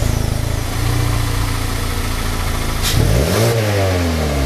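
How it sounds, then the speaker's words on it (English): Mazda 3 exhaust idling with a steady low burble, then a sharp rev that rises and falls back near the tailpipe, loud and alone. "And now we'll have a listen to the exhaust."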